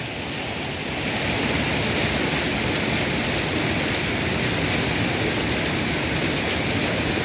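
The Rio Salgado in full flow in the northeastern Brazilian sertão, heard as a loud, continuous broadband roar of rushing river water that swells slightly in the first second and then holds steady.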